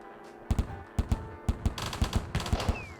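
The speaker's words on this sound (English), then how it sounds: "We'll build some Gatling guns and take it from there." Rapid bursts of Gatling gun fire in the Hydraulic Empire video game, several short volleys of sharp, punchy shots in quick rhythm, loud and close with no talking.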